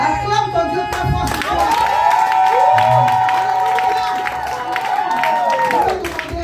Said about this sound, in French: Acclame ton Dieu très fort.